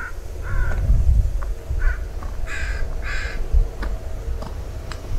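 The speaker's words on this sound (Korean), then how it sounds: "말씀드린 순간에 까마귀 한 마리 날아가네요" A crow flies past over a reed marsh at North 40 Land Reserve in Delta, Vancouver, giving several hoarse caws in short bursts against steady wind and outdoor background, fairly near and clear.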